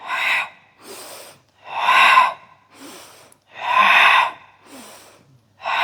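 Quick, forceful breaths in and out during a full body exercise routine, four strong loud exhalations alternating with softer inhales in a steady rhythm, close up and without speech.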